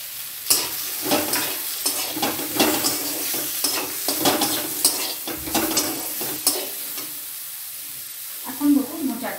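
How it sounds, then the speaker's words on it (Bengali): Turmeric, chili and coriander-cumin powder being stirred in a pan for a vegetarian banana flower dish, with repeated spoon scrapes and knocks over a low sizzle, steady and close with no talking. "এবার দেবো গুঁড়ো মশলাগুলো, হলুদ গুঁড়ো, লঙ্কা গুঁড়ো আর ধনে জিরে গুঁড়ো।"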